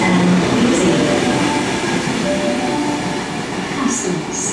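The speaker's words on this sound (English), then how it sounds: "The next train does not stop at this platform." A Sydney Trains train rumbles loudly through the platform at Granville station without stopping, a steady rolling roar with brief high squeals of the wheels near the end.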